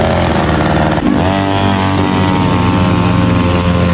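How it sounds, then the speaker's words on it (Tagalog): A small scooter engine runs steadily and loudly throughout, with a buzzing, throbbing drone that shifts pitch slightly as it revs up about a second in. "Grabing ganda talaga ng tunog ng gamit naming scooter. Parang helicopter."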